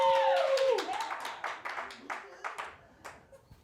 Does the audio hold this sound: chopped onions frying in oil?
no